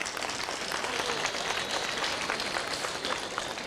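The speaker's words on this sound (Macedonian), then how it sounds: "И каде е аплаузот за ова?" An audience at a folk dance festival applauds, producing a dense, steady wash of clapping throughout with no break or rhythm.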